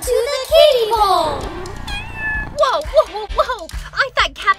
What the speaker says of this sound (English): Are those kitty cats?